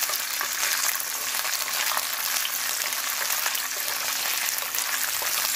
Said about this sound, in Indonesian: Jadi aku mau goreng petenya dulu sama bikin sambal dulu.